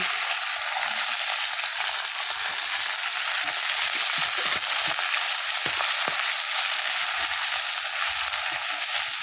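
Onions sizzle and fry steadily in a hot pan for a meat curry, a continuous close hiss with occasional stirring scrapes and no talk.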